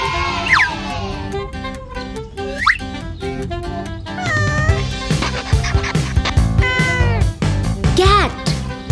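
Cartoon cat meowing repeatedly in a children's animal-names cartoon, several high, bending meows over a bouncy musical backing, with a child-like voice joining in.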